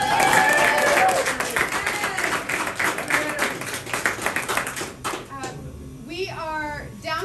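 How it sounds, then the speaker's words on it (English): A crowd at a Boston political rally claps loudly for about five seconds, then the applause thins out, followed by a few voices and scattered background noise. "One more round of applause for the City Council President."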